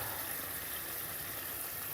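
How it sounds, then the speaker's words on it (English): Steady, faint crackling hiss of food sizzling in a pan, even and continuous with no voices. "So let's just let it sizzle a while."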